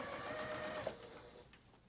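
A sewing machine stitching a dress casing, a short faint run of rapid needle strokes that slows and stops, followed by a small click.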